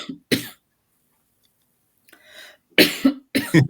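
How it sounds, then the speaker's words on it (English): A short cough, then after a pause of silence, several sharper coughs in quick succession, close and fairly loud. "Everyone's coughing at the moment. We're all coughing."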